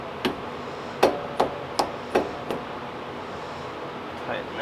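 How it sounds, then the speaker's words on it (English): Front brake caliper on a Shelby GT350 gets tapped during a brake fluid flush: about half a dozen sharp metallic knocks in an uneven rhythm, close and distinct over a quiet garage background. "tap the caliper just like we did the back ones"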